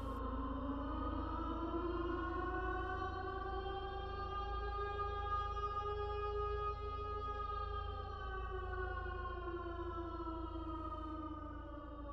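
A steady wailing siren with rising and falling tones holds continuously over a low rumble, sounding fairly distant and constant throughout.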